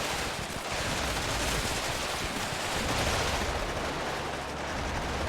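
Gunfire and tracer fire crackle in the Cold War strategy game WARNO as a dense, continuous wash of rapid shots and distant bursts, loud throughout with no speech.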